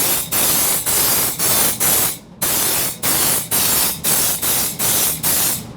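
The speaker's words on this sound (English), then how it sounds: "You'll want to spray in several different directions" Loud hissing sprays of undercoating from a bottle in short repeated bursts, about a dozen in a row with brief gaps between, close up and with no talk.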